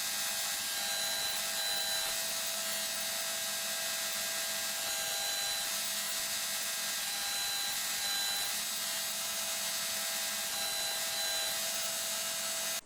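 A drill bit with a broken edge is sharpened in a sharpening jig, giving a steady, continuous grinding hiss with a faint whine that stays even and close for the whole stretch, with no talking.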